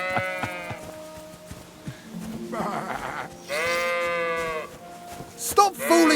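Sheep bleat in Kingdom Come: Deliverance II, several long wavering cries overlapping at close range over steady ambient game sound.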